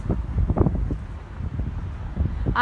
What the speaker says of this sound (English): For those of you who are talking about the wind, I'm actually on my iPhone, so I do not have a microphone.